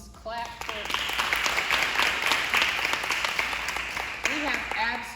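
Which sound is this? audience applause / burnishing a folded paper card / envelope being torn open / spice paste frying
audience applause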